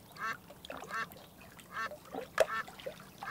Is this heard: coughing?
no